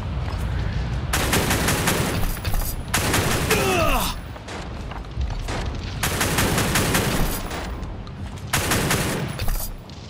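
Repeated bursts of machine gun fire from a World War Heroes battle, loud and dense with short pauses between volleys, plus a brief whistling streak of projectiles in the middle.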